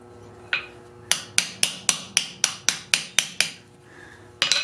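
Ten sharp, evenly spaced hammer blows ring out on a steel slitting chisel as it cuts palm lines into a forged metal hand, close and loud, with a lone strike before and another after the run.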